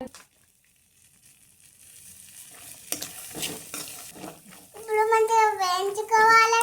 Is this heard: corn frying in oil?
yes